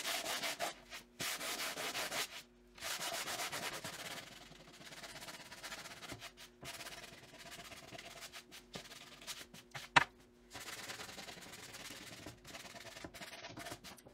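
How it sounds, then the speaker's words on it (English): Sandpaper rubs over painted letters on a wooden board in repeated strokes, a close, steady scratchy hiss broken by short pauses. "the black first so that the whole thing is universally sanded, and then I would come in and sand my letters at the end."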